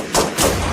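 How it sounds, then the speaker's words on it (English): Two sharp AR-15 rifle shots crack in quick succession, loud and close, with a brief echo trailing each. "Hearing the gunfire"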